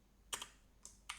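A few quick clicks of typing on a computer keyboard while setting up Python tools, three or four sharp, close keystrokes in just over a second, alone without talk.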